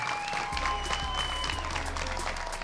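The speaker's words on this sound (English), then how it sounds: "Once more, a big round of applause for our gold medalist, Paul Olin." Applause for the gold medalist at a pro pickleball championship, a dense clapping crowd heard steadily throughout with faint tonal sounds in the arena background.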